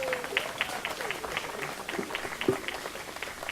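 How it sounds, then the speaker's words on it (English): Wedding guests applaud the groom during the ceremony with soft, scattered clapping from a modest group, fairly faint and with a few brief voices in the background. "Let's give our groom here a round of applause"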